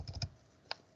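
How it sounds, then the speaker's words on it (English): Typing on a computer keyboard: a quick burst of three close keystrokes followed by one sharper isolated tap after a pause, near and fairly quiet, with no talking. "I'm typing"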